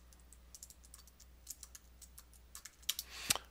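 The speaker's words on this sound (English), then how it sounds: "Because I was typing stuff like this." Programming code being typed on a computer keyboard, a quick, irregular run of soft key clicks up close, ending with a few louder keystrokes.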